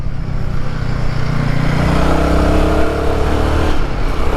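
A motorcycle on an Irish road accelerating hard through the gears with early upshifts, a loud close engine roar rising in pitch and dropping briefly at each shift.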